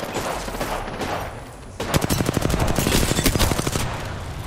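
A Hemlok rifle fires in the game Apex Legends during a firefight: loud, rapid bursts of close shots in quick rhythmic strings, following a brief lull with distant sounds.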